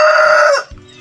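A rooster crows once, loud and close, in a bright, strained call that breaks off abruptly after about half a second, leaving only faint background noise.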